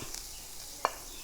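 Jackfruit seeds roasting in a pan give off a faint, low sizzle, broken by a single short scrape of stirring; the sound is quiet and close, and nobody speaks.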